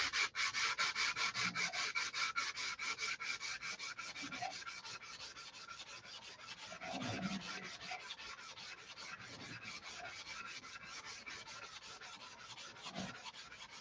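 Hand sanding a finish: steady, rhythmic back-and-forth rasping strokes, close and fairly quiet, continuing without voices.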